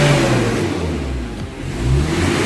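A Mitsubishi L300 diesel engine runs and is revved close by, producing a loud, continuous mid-pitched roar that dips briefly, then rises again as the throttle is pressed.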